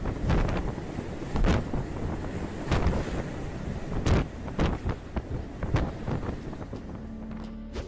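Violent wind at about 89 mph and huge waves batter a ship at sea, a constant roaring wash broken by repeated loud crashing surges and thumps close to the microphone, with no voices.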